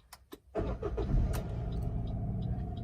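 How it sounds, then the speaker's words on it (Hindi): A 2017 Maruti Celerio with a petrol three-cylinder engine starts up: a few clicks, then a quick crank and catch that settles into a steady, slightly throbbing idle, heard close and alone. "तो हम एक बार गाड़ी को स्टार्ट करके इसकी आवाज़ सुन लेते हैं।"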